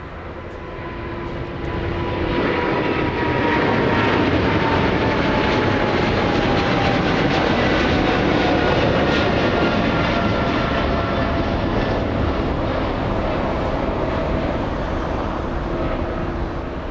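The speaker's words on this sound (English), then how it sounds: "that's the United Airlines flight from Japan" United Airlines jet airliner arriving at Los Angeles International Airport from Japan, its engines swelling into a loud, sustained roar with a slowly falling whine as it passes close by, alone without talk.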